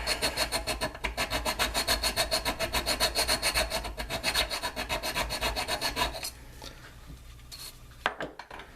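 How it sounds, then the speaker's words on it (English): Steady back-and-forth rasping of a file across wood, a fast regular rhythm of strokes lasting about six seconds, then fading to a few quieter scrapes and a light knock. "Filing."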